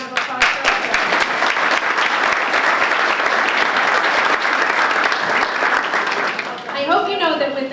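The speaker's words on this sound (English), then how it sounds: "Let's have a round of applause for them." An audience at a chamber of commerce legislative luncheon applauds its sponsors, a dense, continuous round of clapping from a crowded room that thins out and fades near the end.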